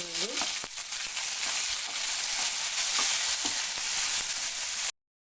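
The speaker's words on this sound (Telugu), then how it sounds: "ఇలా అయితే లైట్గా వేగింది ఇంకొక వన్ మినిట్ అయితే కలర్ చేంజ్ అయింది" Chopped tomatoes fry in a hot pan for tomato roti chutney, giving a steady, close, loud sizzle with a few soft stirring scrapes, then it cuts off abruptly near the end.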